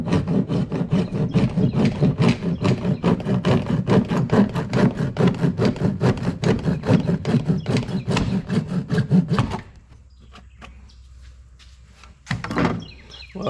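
A saw rasps back and forth quickly and steadily as it cuts off a plastic peg on a StrarKnightMT 24L storage box for a Polaris Ranger, then stops for a near-silent pause before a brief final scrape.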